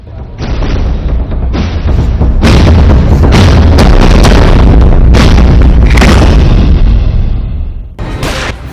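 Bursts of AK-47 gunfire in Siwan, Bihar, loud heavy booming shots in rapid clusters, overlapping and echoing, with a brief pause near the end before another burst.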